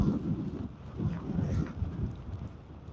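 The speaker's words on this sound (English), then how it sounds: "You're going to be able to really pick up the wind a little better." Strong storm wind blowing over Lake Superior at Duluth, Minnesota, a steady low roaring buffet with gusting surges and rumbling on the microphone, continuous and loud for the whole stretch with no voices.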